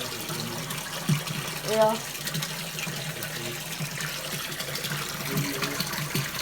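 Water running from a tap marked non-potable, a steady outdoor gush and splash heard close, with a few people's voices talking over it.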